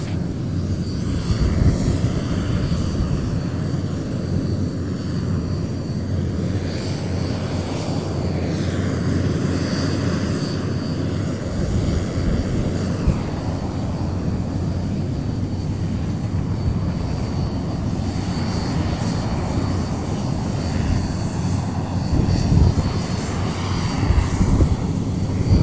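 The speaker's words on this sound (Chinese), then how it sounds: "随着飞机发动机的发动啊，现场的这个噪音也开始大了起来。" Aircraft engines roar steadily as the plane carrying the Chang'e-5 return capsule to Beijing starts up on the airfield, a loud continuous drone with propeller-like hum that builds slightly over time.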